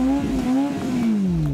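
Motorcycle engine held at a steady partial throttle during a drift, a loud, close, sustained engine drone that dips slightly in pitch without cutting out.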